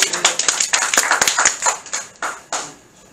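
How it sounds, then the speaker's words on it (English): Congregation clapping hands in a church service, a quick irregular run of sharp claps, fairly loud and close, thinning out toward the end with no talk over it. "Clap your hands."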